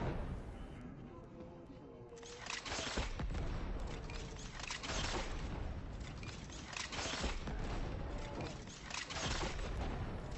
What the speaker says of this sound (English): When the stun doesn't work, it just seems to act like just a regular explosive.